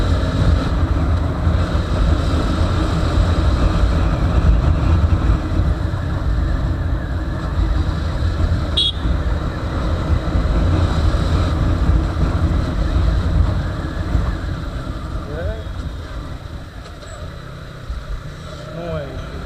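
2018 TVS Apache 200 Race Edition motorcycle accelerating: a steady, loud engine drone mixed with heavy wind rush, recorded close while riding, easing slightly toward the end.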